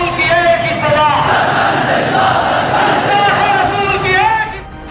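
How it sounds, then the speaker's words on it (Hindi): A large angry crowd at a protest shouts and chants slogans together, a loud continuous roar of many voices with rising rhythmic cries. "सर धड़ से जुदा करने की डरावनी आवाजें लाहौर से 380 किलोमीटर दूर इस्लामाबाद तक पहुंचने लगी।"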